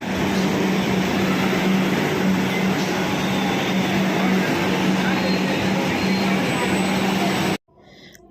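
Metro train at Howrah station, a loud continuous rumbling roar with a steady low hum and high screech, cutting off abruptly near the end, with voices underneath.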